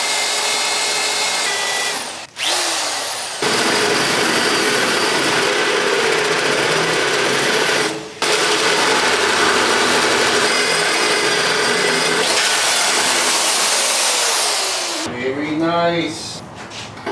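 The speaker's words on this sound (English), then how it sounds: "that little ding is gonna make sure that this drill bit stays nice and centered" A loud power drill whines steadily up close as it drills metal, briefly pausing twice before a final stop, followed by a short burst of speech.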